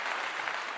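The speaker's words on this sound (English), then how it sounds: "give you a clap as well for that super chat" A single person claps hands during a live-streamed talk show, a quick run of sharp close claps that blend into a dense patter over under a second, fairly loud with no speech.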